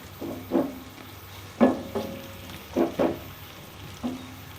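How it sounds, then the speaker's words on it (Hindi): Onions fry in oil toward golden brown for chicken biryani, with a low sizzle underneath and a handful of distinct spoon knocks and scrapes against the pot at irregular intervals. "प्याज हमने डाल लिया है तो अब हमने इनको गोल्डन ब्राउन करना है"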